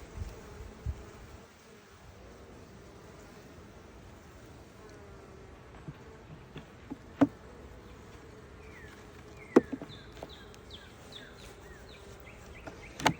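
Soft continuous buzzing hum of many honey bees in a hive, steady and close, with occasional clicks and faint chirps over it.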